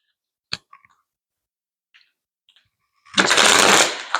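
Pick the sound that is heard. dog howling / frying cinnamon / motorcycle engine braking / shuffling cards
shuffling cards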